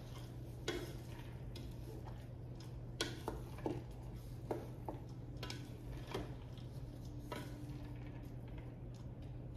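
A spoon stirs chopped ingredients into a pot of soup, giving scattered clinks and soft scraping knocks against the pot over a steady low hum, fairly close and with no talking.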